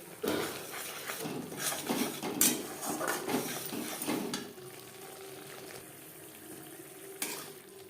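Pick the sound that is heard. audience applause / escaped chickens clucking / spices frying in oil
spices frying in oil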